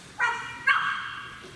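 A dog named Buggy Horse barking in excitement, two short, close yips in quick succession, standing clearly apart from a quiet background.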